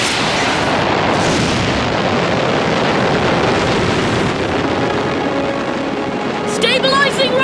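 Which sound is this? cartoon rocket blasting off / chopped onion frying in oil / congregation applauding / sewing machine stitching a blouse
cartoon rocket blasting off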